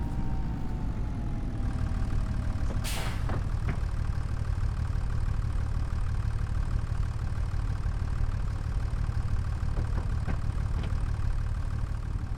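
A tractor engine in Farming Simulator on the American Farmlands map runs steadily with a loud, low droning idle throughout, plus a few faint clicks and a brief sharp burst early on.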